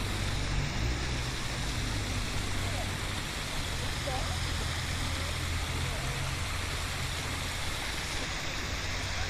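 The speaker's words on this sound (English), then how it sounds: "where the feeder creek or the waterfall goes into the lower pond" Rushing water from a small waterfall or feeder creek flowing into a pond makes a constant broadband roar, with no clear speech.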